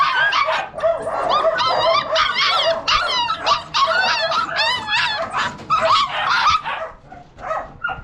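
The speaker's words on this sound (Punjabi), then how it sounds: "ਤਿੰਨ ਛੋਟੇ ਪੱਪੀਜ਼ ਨੇ" Three small purebred imported puppies whimper, yip and bark almost continuously, high-pitched and close, with overlapping cries and only brief pauses.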